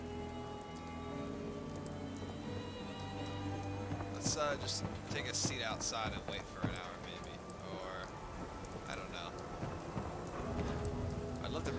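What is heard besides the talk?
rain falling in the video game Fallout 4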